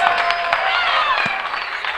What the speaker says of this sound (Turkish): kocaman alkış alıyoruz